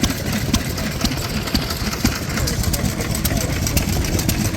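A Donaldson Tippett 3 horsepower engine runs a big pump at a historic machine rally, a steady, close, rhythmic chugging with voices and crowd noise mixed in.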